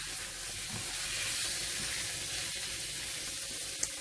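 Salted codfish stirred in a pan with sautéed vegetables for Jamaican ackee and saltfish, a soft, steady sizzling hiss at moderate distance with one small click near the end.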